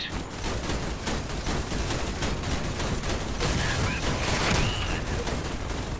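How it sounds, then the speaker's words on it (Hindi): Crossout vehicle combat fills the scene with continuous autocannon fire and shelling, rapid evenly spaced shots over a rumbling bed at moderate distance. The noise swells slightly midway with no clear speech. "उन्होंने गोलाबारी शुरू भी कर दी।"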